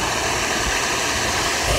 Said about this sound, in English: Got the little waterfall behind